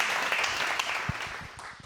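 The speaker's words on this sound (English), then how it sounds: "Give a very warm welcome and a round of applause for Alex Lee" An audience at an AI panel discussion podcast event applauds to welcome a guest, a steady wash of clapping filling the room throughout, moderately loud and unbroken.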